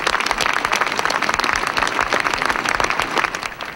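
Crowd in St. Peter's Square applauding, a dense, sustained wash of clapping from thousands of people that holds steady and fairly loud throughout, with no voices standing out.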